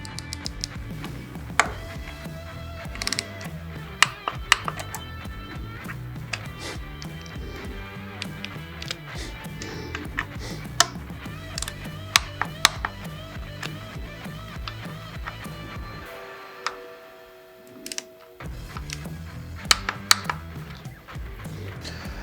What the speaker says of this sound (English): Now we're going to torque down these 3 bolts to 72 inch-pounds of torque.